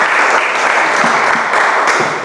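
Audience applause for Luiza, a writer introduced at an Emerging Writer on Tour literary event: thick, even clapping from a sizable crowd, loud and continuous throughout with a few sharper individual claps standing out, no speech over it.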